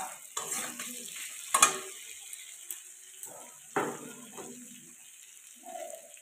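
Cumin powder stirred into cauliflower frying in a pan, with a soft sizzle under several distinct spoon scrapes and clinks against the metal, spaced irregularly and fairly close.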